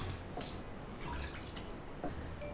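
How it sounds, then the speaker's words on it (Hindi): Water splashes and drips faintly while a stone silbatta grinding slab is washed in a kitchen, soft scattered dribbles over a constant low hiss. "सिलबट्टा सब कुछ क्लीन अप कर लें और धो लें।"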